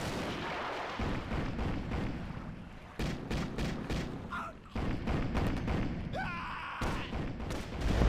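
A bomb detonates in Axis and Allies, the real-time strategy game, over a dense bed of continuous artillery-like rumble. Several sharp booming impacts cut in, with a whistling tone near the end.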